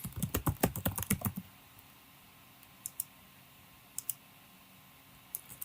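Fast typing on a computer keyboard for about a second and a half, followed by a few sparse, crisp clicks spaced apart in a quiet room, with no voices.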